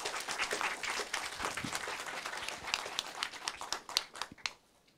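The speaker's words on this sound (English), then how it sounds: "Yeah, applause." Audience applause after a guest lecture at a process metallurgy conference, a steady round of many hands clapping for several seconds before tapering to a few scattered claps at the end.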